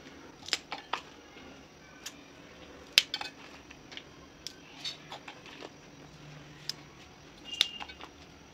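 Green chillies are snapped into pieces by hand and dropped into a steel mixer jar, giving scattered faint clicks, taps and light clinks over a quiet kitchen background, with no talking.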